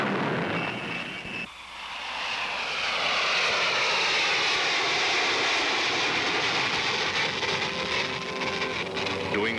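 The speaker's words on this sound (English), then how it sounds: "At work, he test flies airplanes such as the world's fastest jet aircraft" A Lockheed SR-71 jet aircraft flies past in a loud, sustained engine roar that swells after a brief dip near the start and holds steady and close, with no voices.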